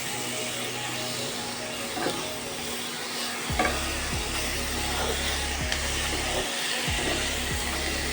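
Chicken pieces being stirred in a frying pan for a chicken and vegetables dish: a spatula scrapes the pan every second or so over a soft sizzle, with a loud steady low hum running underneath.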